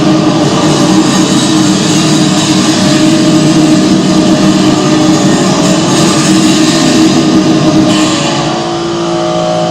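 A vehicle engine turns over and then runs steadily, a loud, constant mechanical drone that holds for most of the stretch before easing slightly near the end.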